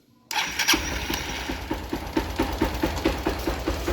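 A motorcycle engine cranks and fires up after a moment of silence, then settles into a steady, rhythmic idle with regular pulsing beats, close and loud.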